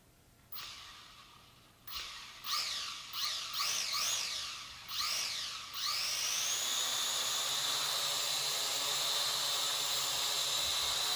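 Syma X5C-1 remote quadcopter spinning up and hovering: several short rising whirs as the throttle is blipped, then a steady high-pitched rotor whine and hiss, close by and fairly faint.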